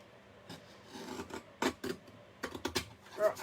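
A paper trimmer blade rasps through Stampin' Up! cardstock in short, scraping strokes, several uneven bursts close by, with faint rustling between them.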